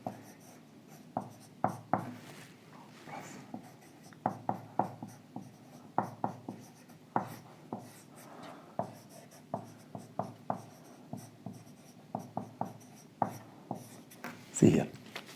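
Chalk tapping and scraping across a board during an engineering lecture, a steady run of short rhythmic strokes close by, under quiet room tone.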